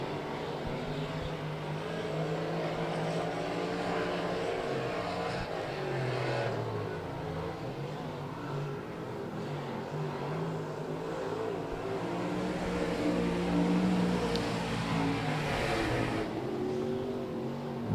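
Street stock race cars circle a dirt track during a race, a steady loud blend of engine roar and revving with cars passing, continuous and without talk.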